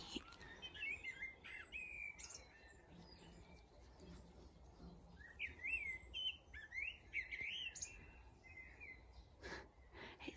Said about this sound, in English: I'm just listening how beautiful the birds are.